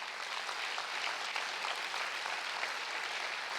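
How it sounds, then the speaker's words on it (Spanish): A congregation applauds God during a church sermon, a brief, even roar of many hands clapping at moderate distance with no talk over it. "Puedes darle un fuerte aplauso a Él."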